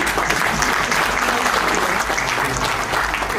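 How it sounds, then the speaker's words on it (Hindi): An audience at a Hindi-Urdu poetry recital breaks into dense, sustained applause that stays loud and even throughout, with a faint murmur of the crowd underneath. "तालियां बजाने को दिल चाह रहा है तो भरपूर बजाइए।"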